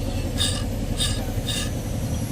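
Three evenly spaced metallic rattling bursts from a Toyota Fortuner's worn AC clutch pulley ring out over a steady low engine hum, close and fairly loud.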